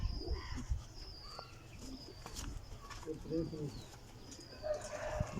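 Commander-breed pigeons coo in low, soft bursts close by while people talk over them, with a few brighter chirps from other birds in the background.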